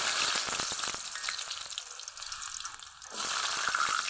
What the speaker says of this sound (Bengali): আলু গাজর হালকা ভাজা ভাজা করে নিব